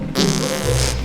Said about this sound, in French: Quelqu'un a pété.